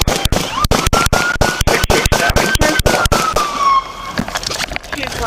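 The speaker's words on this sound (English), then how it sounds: "99, shots fired!" Rapid bursts of gunfire relayed over a Corpus Christi police scanner radio: a dense string of sharp cracks in quick succession, loud and continuous for several seconds, with a tone and radio chatter underneath.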